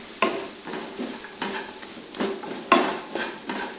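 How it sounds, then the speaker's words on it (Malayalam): Kashmiri chili powder sautéing on low flame in a pan for a prawn roast, with steady soft sizzling and a few louder scraping stirs of a spoon against the pan. "ലോ ഫ്ലെയിമിൽ ഇട്ടതിന് ശേഷം മാത്രമേ ഇതെല്ലാം വഴറ്റിയെടുക്കാവൂ, അല്ലെങ്കിൽ പൊടികളൊക്കെ പെട്ടെന്ന് കരിഞ്ഞു പോകും."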